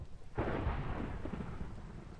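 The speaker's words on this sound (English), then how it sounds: "Jeez, that's another thunderstorm." A Minecraft thunderstorm breaks with a sudden loud thunder crack, then a sustained low rumble and steady rain-like wash that lingers without any voices.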